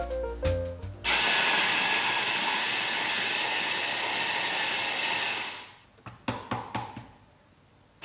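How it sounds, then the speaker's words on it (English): A roommate's electric grinding machine, used while cooking crab noodle soup, runs at a loud, steady whir for about four seconds and then cuts out, leaving a few short knocks and clatters. "This is actually my roommate's grinding machine and it's pretty helpful."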